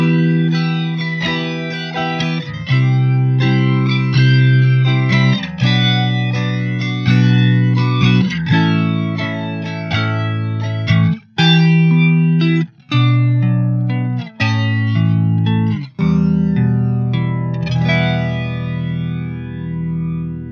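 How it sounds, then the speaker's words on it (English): Electric guitar played through a short-delay modulation effect such as chorus, a shimmering wavy tone over strummed chords and picked notes, steady and upfront for about twenty seconds with brief pauses and no talking. "a few milliseconds of delay, and then it creates that kind of wavy sound"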